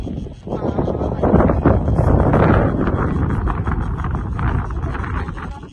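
Wind buffets the microphone on an open hilltop near Lakuri, a steady loud rushing roar that swells and gusts throughout with no break.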